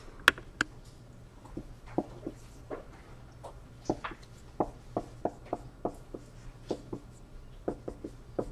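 Marker strokes on a classroom board while an orbital diagram is drawn: a series of short squeaky taps and scratches in irregular rhythm, fairly close and crisp over a quiet room hum.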